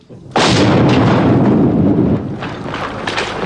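A heavy artillery round fires in Bosnian war footage as Croat guns shell Serb lines, one loud close boom followed by a long rolling rumble and fainter distant thuds.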